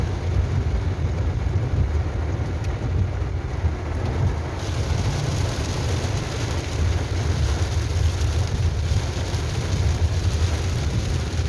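Steady, dense rain pours down continuously, a loud even hiss with no breaks and no voices.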